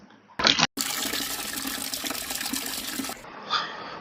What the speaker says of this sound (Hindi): पानी भर दूं?